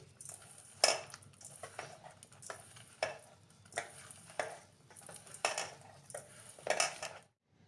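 Spoon stirring raisins, chopped cashews and sugar into a farali pattice filling, knocking against a pot or bowl in irregular clinks and scrapes, close and fairly quiet, with no talk.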